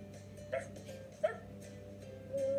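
A dog gives a few short, soft yips and whimpers, spaced about a second apart, followed by a longer whine, faint against a quiet background.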